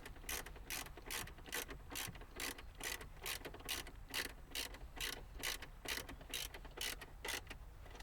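T20 Torx metal screws being driven back into plastic sockets in a 2015-2019 Mercedes GLS dash, a fast steady ratcheting click from a nearby driver, repeated evenly throughout with no talking.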